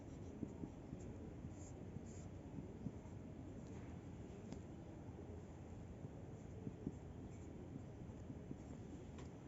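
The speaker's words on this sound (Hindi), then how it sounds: "ये भी लिख लेते हैं हम लोग।" Pen writing notes on paper, a faint continuous scratching with light taps from the strokes, quiet and close without speech.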